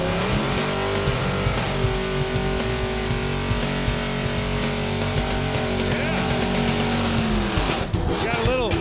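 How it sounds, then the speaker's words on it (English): Drag racing car doing a burnout at a game-show drag strip, a loud sustained engine roar with tire squeal and skidding that holds steady, then shifts pitch near the end, with people talking over it. "let's watch the burnout. The burnouts never lie here on Pastime."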